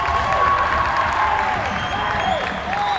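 A boys' high school volleyball crowd in a gym roars steadily at match point, a dense wash of cheering and applause with whistles or squeaks cutting through.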